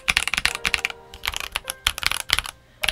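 Rapid typing on a Tecware Phantom mechanical keyboard fitted with Otemu switches, a dense run of crisp close-up key clacks in uneven bursts with short pauses, no voices.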